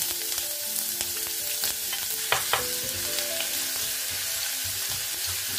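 Ginger sizzles in hot oil with popping mustard seeds in a pan while bun dosa is made, giving a steady close crackle with a few sharp pops and scraping stirs and no voices.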